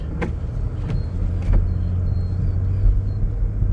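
Idling car engine warming up before a drive on an icy day, a steady low rumble close by, with a few faint clicks early on and no talk.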